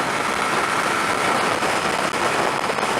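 A 125cc motorcycle engine screams at about 9,000 revs on a motorway, a dense buzzing roar mixed with wind rush, steady and loud throughout.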